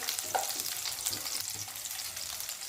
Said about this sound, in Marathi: गॅस एकदम स्लो ठेवायचा कमी ठेवायचा आणि मिरच्या थोड्या परतून घेऊया